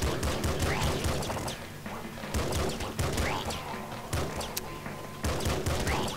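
Rapid pistol gunfire from the Nuclear Throne video game during a robot challenge, with dense bursts of sharp shots repeating close and loud over game music and effects.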